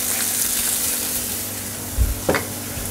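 Zucchini and shrimp cook in a hot pan, giving a soft steady sizzle with a couple of short stirring knocks near the end.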